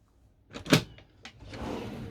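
A drawer in a 2023 Mobilvetta Kea i85 motorhome slides open with a brief rumbling glide and a couple of clunks, followed by a softer rustling shuffle; close by, no speech.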